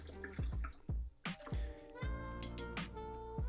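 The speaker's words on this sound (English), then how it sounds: "Rinse off my brush." A watercolor paintbrush being rinsed in a cup of water, with a series of close, soft plinking drips and small clinks from swishing in a quiet room.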